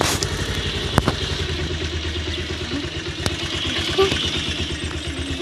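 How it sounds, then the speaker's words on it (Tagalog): Motorcycle engine idling in first gear, then pulling away as the throttle is eased up and the clutch slowly released, a steady close putter with a few sharp clacks. "Dahan-dahan natin iangat ang silinyador. Dahan-dahan din natin itong bitawan."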